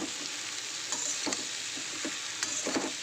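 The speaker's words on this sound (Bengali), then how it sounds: "সয়াবিনটা ওর সঙ্গে একটু ফ্রাই করব।" Soaked soybean chunks frying in hot oil with vegetables, a close, steady sizzle with occasional sharper crackles and spatters as the food is stirred in the pan.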